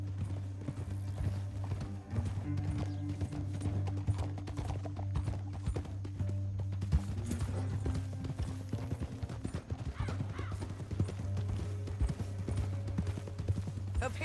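Horse hooves gallop in a steady, continuous clip-clop rhythm in Red Dead Redemption 2, riding through a canyon over a low droning music bed, close and loud throughout with no talk.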